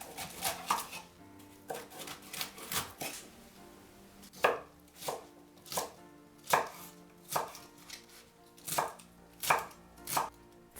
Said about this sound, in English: Cut 2 cabbage leaves into chunks.